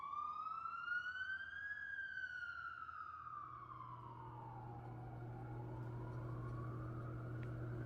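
A wailing emergency siren sweeps up and down in long glides, heard from indoors as it passes outside, steady and moderately loud with a low engine-like drone joining partway through.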